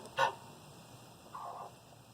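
An Araucana rooster in a breeding pen gives two short, harsh honking calls, one early and one softer about a second later, close by against a quiet background with a faint steady hum.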